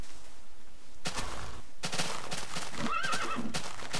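A horse in the Minecraft video game whinnies loudly in a few bursts, with hoof-like clops and sharp game effects around it and no talking.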